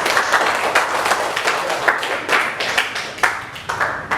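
Applause from an audience at an Indonesian class presentation session, a steady dense patter of many hands with a few sharper bursts, fairly close and lasting throughout.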